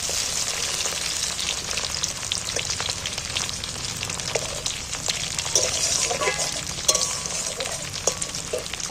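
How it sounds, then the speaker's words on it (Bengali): Steady, crackling sizzle of onions frying in hot oil, bright and close, with occasional stirring scrapes and no voices. "পেঁয়াজটা কিন্তু আমার অনেকটাই লাল লাল করে ভাজা হয়ে গেছে"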